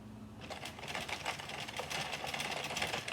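A hand-cranked knitting machine spun to cast on stitches, a fast, steady mechanical clatter of rapid ticking that continues throughout at moderate volume.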